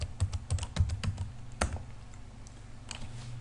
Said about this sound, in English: So if you type in on Google